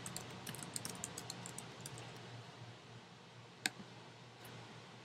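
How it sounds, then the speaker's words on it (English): Light, rapid keystrokes on a computer keyboard as a URL is entered, a quick run of clicks at the start followed by sparser taps and one sharper key press, all close and quiet with no talking. "So I'm going to just type in the URL right here."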